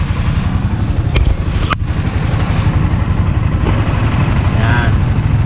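A 2023 Yamaha Sniper 155R motorcycle idles close up with a loud, steady, throbbing engine rumble that stays constant throughout, with no throttle revs standing out.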